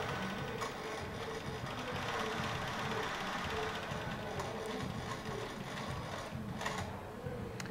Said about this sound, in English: As soon as I press go, it then starts the sewing machine